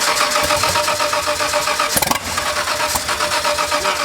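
A big-turbo forged RB30 engine is started for the first time. Loud, close cranking churns steadily, then the engine catches with a sharp burst and keeps running roughly.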